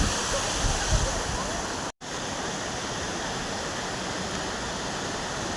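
A mountain waterfall near Manali roars as a dense, loud, continuous rush of falling water. The sound drops out for a split second partway through, then resumes unchanged.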